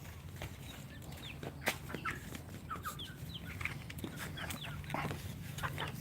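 Egg-laying chickens on a farm cluck and chirp in short, scattered bursts, fairly faint and close, over a low background hum.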